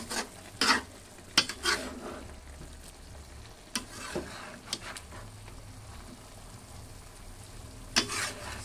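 Bitter gourd (ampalaya) cooking in a pan, with soft sizzling and frying under a few sharp clicks and scrapes of stirring against the pan, fairly quiet and close.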